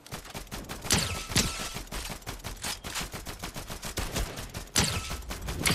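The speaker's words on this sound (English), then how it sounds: "Shoot at the guy flying." Rapid automatic gunfire from a Fortnite match, dense bursts of shots crackling almost continuously with louder volleys near the start and end, no talking.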